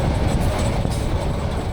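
Parjatak Express train rolling across the Kalurghat bridge over the Karnaphuli River, a steady loud rumble and rattle of wheels heard from onboard, continuous until it cuts off abruptly at the end.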